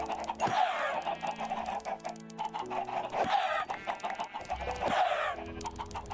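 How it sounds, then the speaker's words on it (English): A crowd of chickens cluck constantly in the video game Minecraft, with overlapping repeated clucks in bursts, close and busy, and no talking. "There are so many chickens."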